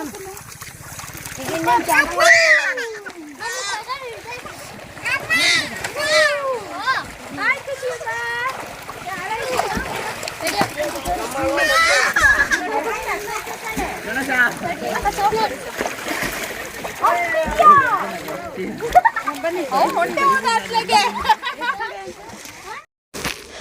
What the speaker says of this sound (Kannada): ಇಷ್ಟು ದೊಡ್ಡ ಚಾನಲ್ ಇಷ್ಟು ಆಳವಾಗಿರೋ ನೀರಲ್ಲಿ ಆಟ